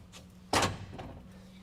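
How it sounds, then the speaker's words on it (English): A bottom door on a product meter hopper is swung open, giving one sharp metallic clunk near the mic followed by a brief rattling decay, with a steady low hum underneath. "We're going to want to make sure that our bottom door here is open so all of our product can dump down"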